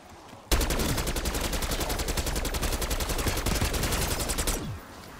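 AK rifle firing full-auto in the Liberty Falls video game: one sustained, loud, close burst of rapid evenly spaced shots lasting about four seconds, then stopping abruptly.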